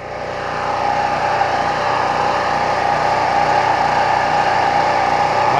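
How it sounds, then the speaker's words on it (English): A small gasoline engine runs close by on partial choke, idling steadily with a dense, continuous buzz that holds loud and even throughout without breaking or stalling. "Cut the choke back halfway, keep the damn surging."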